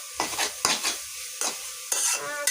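Leafy greens stir-fried in a pan, with several loud scraping strokes of a utensil against the metal over a continuous close sizzle.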